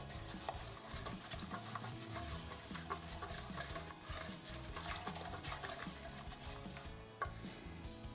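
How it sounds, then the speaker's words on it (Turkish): Steady rapid clinking and scraping of a whisk stirring tarhana into yogurt in a bowl, continuous for several seconds at low volume with no talking. "çırparak tarhanamızı biraz karıştıralım."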